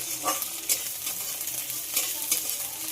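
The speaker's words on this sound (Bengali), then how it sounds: "ক্যাপসিকামটা পেঁয়াজের সঙ্গে খুব ভালো করে ভেজে নিতে হবে।" Chopped capsicum frying with onions in a pan, a continuous close sizzle broken by occasional stirring scrapes, steady in level, with no talking.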